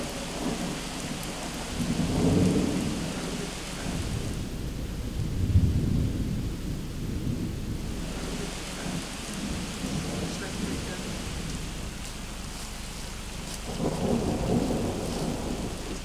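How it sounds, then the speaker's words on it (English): Thunder rumbles low and heavy in bursts over steady rain falling outdoors near a cyclists' tent camp by a stream, with swells of rolling thunder around the start, middle and end. "suddenly thunder in the sky"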